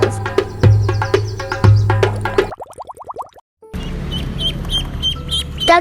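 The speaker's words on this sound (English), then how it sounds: "Duckling." A duckling quacks and peeps in a farm animal setting, a string of bright rapid calls up close, then a short burst of descending chirps and a quieter stretch with softer calls.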